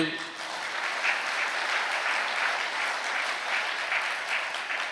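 A crowd applauds, steady continuous clapping from many hands lasting several seconds.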